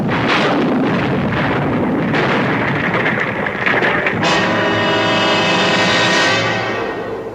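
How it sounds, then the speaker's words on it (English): A loud explosion sound effect in an old-time mystery radio drama set at a cemetery: a sustained roaring, rumbling blast that swells and then shifts into a ringing, tonal rumble that slowly fades. "suddenly there was a flash of light and a loud explosion."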